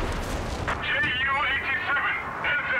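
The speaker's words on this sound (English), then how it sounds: "Was he trying to get his zeroing artillery on the howitzer?" Artillery fire in Company of Heroes 3 during a 2v2 online match, with booming, crackling battlefield blasts and rumble running throughout the clip, loud and close.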